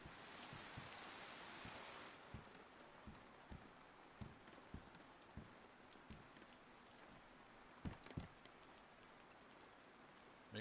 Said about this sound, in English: Man, it's raining really good